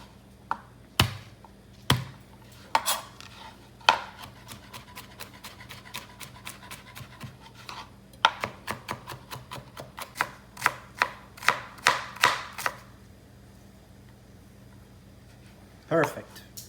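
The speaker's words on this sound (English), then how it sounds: "I'm going to chop up some garlic, because you can never have enough, and some onions for our sauce" A knife chops garlic and onions for a meatball parmigiana sauce with a run of quick, sharp taps on a cutting board. The chopping speeds into a steady rhythm, then stops, and a few scattered knocks come before and after.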